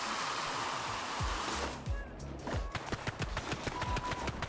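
A shooter weapon firing foam in the Splatoon video game, a rapid string of sharp, repeated shots in the second half following a washing, splashy wash of spray, moderately loud and up close.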